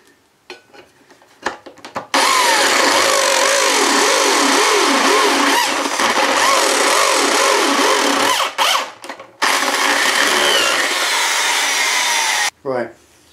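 A drill bores 16 mm holes through a Triumph Scrambler motorcycle heat shield in a home garage, a loud, sustained grinding whir with a wavering pitch that runs for several seconds, breaks off briefly, resumes, then stops.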